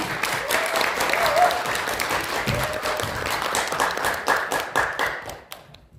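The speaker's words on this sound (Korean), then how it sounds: "큰 박수 부탁드립니다." An audience at a corporate event claps to welcome a speaker to the stage, steady dense applause with a few voices underneath, fading out at the end.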